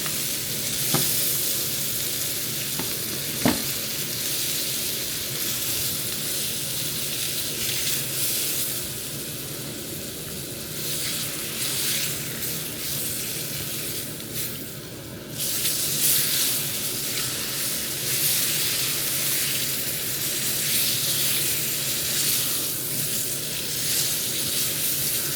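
Butter sizzles steadily in a frying pan as it cooks down before a steak goes in, a continuous close hiss and crackle with a few sharp pops and a brief scrape of stirring.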